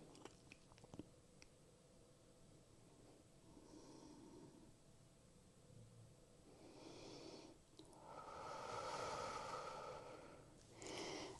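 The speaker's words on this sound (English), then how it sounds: "take a couple of final sweet loving breaths here" Slow, deep breaths in and out during a pregnancy yoga flow, soft and close, with gentle airy inhales and longer exhales spaced several seconds apart in a quiet room.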